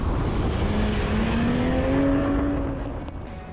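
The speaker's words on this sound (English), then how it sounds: "The engine sounds great. Beamer-esque, yes, but still great." The straight-six engine of a 2021 Toyota Supra drones loud and steady under load, its pitch climbing smoothly as it accelerates before easing off near the end, with no talking.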